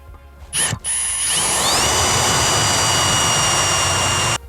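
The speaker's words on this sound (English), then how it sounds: "I'm gonna plug weld it here" A plug weld is laid on metal for a rat rod furniture swivel. A short sputter starts it, then about three seconds of steady, loud crackling sizzle with a thin high whine, ending abruptly.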